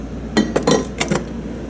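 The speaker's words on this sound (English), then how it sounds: "Got the in-room coffee here with a metal coffee pot" A metal coffee pot handled in a hotel room, a quick series of close metallic clinks and knocks over about a second, then quiet room tone.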